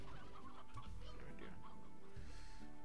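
Chickens clucking in the video game Slime Rancher, several soft clucks and cackles under quiet game ambience with a faint tone.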